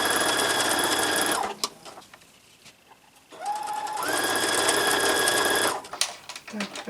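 A sewing machine whirs steadily while stitching skirt fabric, running in two long bursts separated by a short pause, close and loud, with a brief voice in the gap and at the end.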